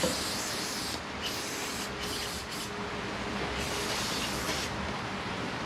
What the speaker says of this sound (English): spray down the bottom of the engine to just clean up any leftover oil